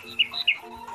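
Two quick, bright bird chirps ring out close by, a short pair of high tweets with faint rustle between them.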